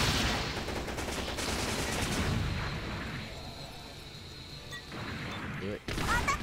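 Rapid machine-gun fire from the Gundam Breaker 3 video game, a dense continuous rattle that holds steady, thins out midway and then cuts back in near the end, with a voice talking over it.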